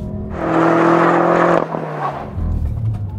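A 2013 BMW M5 sedan, a 4,300-pound car, pulls hard out of a corner with a loud rising engine roar that holds for about a second, then drops away to a lower rumble as it settles.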